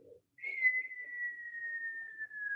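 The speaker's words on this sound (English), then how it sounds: "it's a very long whistle" A single long, steady whistle holds one slowly falling pitch for about two seconds, clear and close, after a brief murmur of talk.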